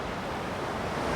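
Meailung waterfall in a Nepali village: a steady, dense roar of rushing water fills the air without pause, loud and continuous across the whole moment.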